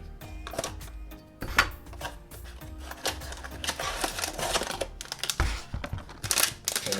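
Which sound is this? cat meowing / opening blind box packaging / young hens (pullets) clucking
opening blind box packaging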